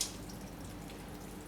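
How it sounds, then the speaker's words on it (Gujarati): Water draining off boiled soya chunks in a home kitchen: a soft, steady trickle with faint dripping that starts with a brief splash and continues quietly and close throughout. "આપણે પાણી આ રીતે નિતારી નાખશું એનું"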